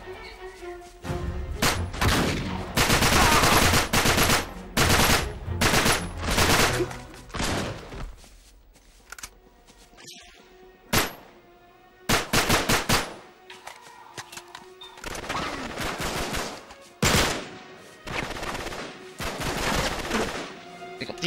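Enemy gunfire in the Uncharted 3: Drake's Deception video game, with dense bursts of loud automatic shots and booming volleys that come in irregular clusters, broken by brief quieter lulls.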